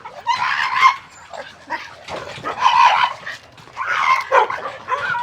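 A dog barks and yips in short repeated bursts during a training session, loud and close, with whimpering tones between the outbursts and no talking over it.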